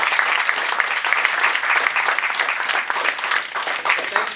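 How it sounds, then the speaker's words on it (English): An audience at a 2016 candidates' forum gives the candidates a sustained round of applause, dense, even and fairly loud, with almost no talk. "let's have a round of applause for our candidates."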